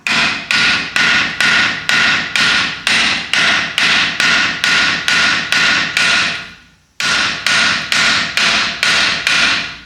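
A hammer taps around a rusted bleeder valve on a 1978 International Scout, landing about twenty sharp, evenly spaced metallic strikes close to the microphone, with one short pause midway.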